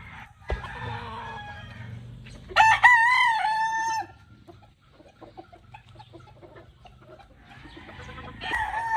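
Chambaline roosters and hens on a farm: a rooster's loud, drawn-out crow rings out near the middle, framed by softer clucks and scattered bird chatter before and after.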